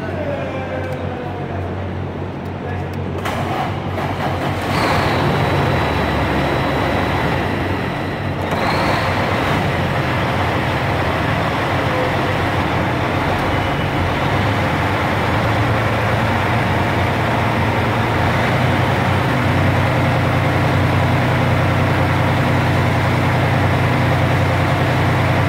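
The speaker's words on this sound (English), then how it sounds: "You may have to idle the engine up." A heavy truck engine idles with a steady low rumble, rising slightly in intensity after a few seconds, then holding a constant drone.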